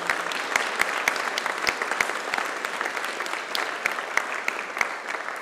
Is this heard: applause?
yes